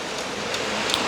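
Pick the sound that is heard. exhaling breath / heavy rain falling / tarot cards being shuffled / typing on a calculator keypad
heavy rain falling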